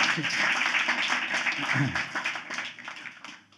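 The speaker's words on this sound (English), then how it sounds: "That deserves an applause." An audience of civil society and media representatives at an ambassador's evening reception in Budapest applauds, a steady dense clapping that fades away near the end, with a voice briefly heard under it.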